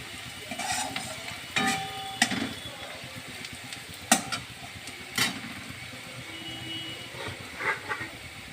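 Arum lobe curry, just dusted with chili powder, is stirred in the pan: a low simmering hiss broken by several sharp scraping clacks of the spoon, with brief faint background noises.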